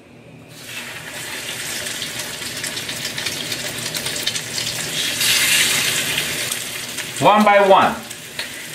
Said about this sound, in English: I'm just gonna add the pork chop in